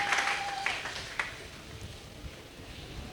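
A church congregation claps, a brief burst of applause up close that quickly fades into quieter scattered claps under a sustained tone.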